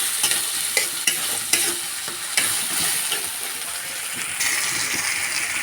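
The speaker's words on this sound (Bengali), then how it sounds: "এবার নেড়ে চেড়ে মশলাটাকে আমরা কষিয়ে নেব।" Spices for a mustard-paste fish curry fry in oil, with a spatula scraping and clacking against the pan in irregular strokes over a constant close sizzle. No voices.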